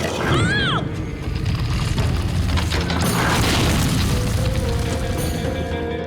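Antique thousand-year-old guns fire in a cartoon, a loud, dense run of booms and crashes lasting several seconds, with whistling slide effects early on and scattered cartoon noises layered on top.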